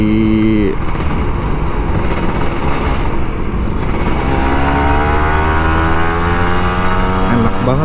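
Kawasaki Ninja RR 150, an older two-stroke bike, revving on a Jakarta commute, its engine note rising and climbing in pitch over steady road and wind noise, loud and close throughout.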